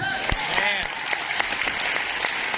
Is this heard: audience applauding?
yes